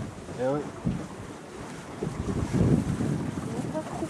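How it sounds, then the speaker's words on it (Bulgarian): Wind rushes over a sailboat on open water as the breeze comes from the direction of an island, a steady gusty roar with microphone buffeting and water noise, while people talk in the background. "Духа от към острова."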